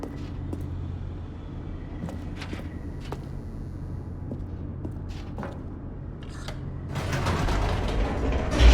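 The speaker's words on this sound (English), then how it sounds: "The elevator raced downward, plummeting towards an unknown fate." An elevator descending in the video game The Stanley Parable, a low steady mechanical rumble with scattered creaks and clanks of gears, building to a louder rushing roar toward the end, no talking.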